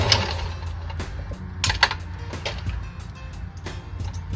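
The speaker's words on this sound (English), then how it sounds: "The more you can sew on the machine, the less you have to hand stitch, but don't force it." A sewing machine stitches a vest with a steady, fast mechanical whir and ticking. Short bursts of sewing stop and restart, up close and fairly quiet, with no voices.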